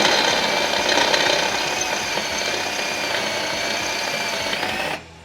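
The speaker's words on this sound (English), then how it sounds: "it allows me to drill the head off" A power drill whines steadily and loudly, close up, as it grinds the heads off rivets on the front end of a wrecked Ski-Doo Summit snowmobile, then stops abruptly at the end.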